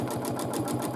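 A domestic sewing machine quilts a large quilt, its needle pounding in a fast, even rhythm of about eight strokes per second, a loud close mechanical whir with no voices.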